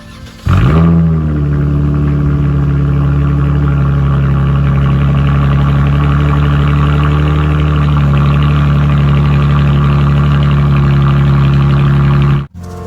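A Dodge Challenger's engine starts and settles into a steady, loud, close idle with a deep low rumble, running evenly until it cuts off abruptly near the end.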